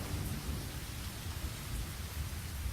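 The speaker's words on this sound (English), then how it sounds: "if it doesn't stop raining, this barrel is going to overflow." Steady rain in the video game Lost Horizon pours near and constant, a dense broadband hiss with a heavy low rumble underneath and no break across the stretch.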